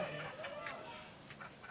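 A chicken clucks in a few soft, short bursts over a steady background hiss, faint and somewhat distant, with no one speaking.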